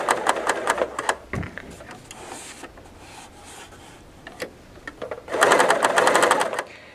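Bernina L890 sewing machine stitching in bursts, rapid needle chatter at the start and a louder sustained run near the end, with quiet pauses between.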